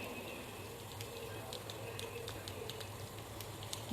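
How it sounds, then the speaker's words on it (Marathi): Mustard seeds pop and crackle in hot oil with cumin frying alongside for a dal and spinach dish, giving faint scattered snaps over a low, steady sizzle. "मोहरीला चांगलं फुटू द्यायचं आहे"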